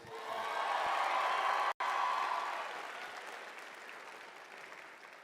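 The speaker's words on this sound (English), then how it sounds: "Let's give another nice round of applause out to Mr." Crowd applause at a 2021 high school graduation ceremony, loud sustained clapping with a brief cut partway through, then tapering off gradually.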